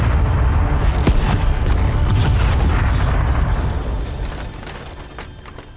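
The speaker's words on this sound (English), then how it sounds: "But the explosion was to change my life forever." An explosion in the video game Broken Sword: Shadow of the Templars, set in a street: a loud, rumbling blast with crackling debris that sustains then slowly fades over several seconds.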